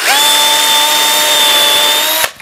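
A power drill pre-drills a hole in a painted wooden plank, its motor whining at a steady high pitch for about two seconds before stopping abruptly, close and loud.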